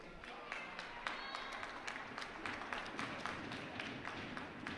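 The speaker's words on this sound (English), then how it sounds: "round of applause" Crowd applause ripples through a rink during a women's college ice hockey game, UNH vs Maine, a steady wash of clapping with sharp individual claps, moderately distant and continuous throughout.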